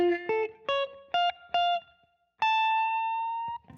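Electric guitar plays a run of short, separately picked augmented chords in a jazzy style, four quick stabs followed by one longer ringing chord, with no talk.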